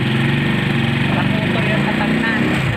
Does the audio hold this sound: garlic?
no